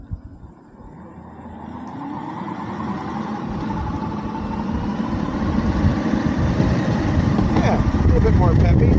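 A VOK Board Pilot belt-drive electric skateboard rides in second gear, its motor and wheel roll building into a steady, rising drone that grows louder over the stretch, with a person talking over it.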